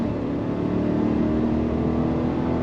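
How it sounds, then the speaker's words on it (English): A Chevrolet Suburban Premier's 5.3L V8 drones steadily up close through a quad-tip exhaust, a throaty rumble with a humming tone, pulling under throttle; no talking. "You got the sound of that V8, nothing being pumped in, all real deal sound from that quad tip exhaust"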